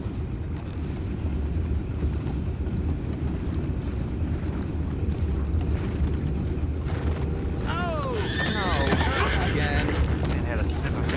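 Horse hooves clop steadily in the background of the video game Red Dead Redemption 2, joined by a whinny near the end, with voices and other game sounds mixed in.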